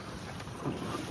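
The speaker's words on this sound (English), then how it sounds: "So the wind's picking up, fishing slowing down." Wind rushes over a fishing boat trolling for walleye on Saginaw Bay, a steady broadband buffeting roar against the microphone with a low rumble beneath, loud and close throughout a short stretch.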